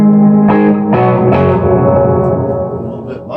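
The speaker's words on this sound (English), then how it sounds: "so I'm going to add some reverb" Bass notes played through an amp with added reverb, each note trailing off into a lingering wash of echo; loud and distorted, no talking.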